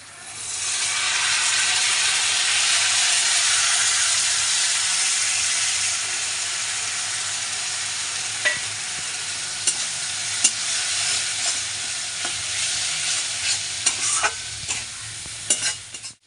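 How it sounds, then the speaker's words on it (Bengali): Spices fry in oil with onion and tomato while a spoon stirs them, a loud, close sizzle that fades after a few seconds into a lower hiss broken by scraping and clinks of stirring. "এবারে আমি মশলাটা দিয়ে দিব পেঁয়াজ টমেটো ভাজা হয়ে গেছে"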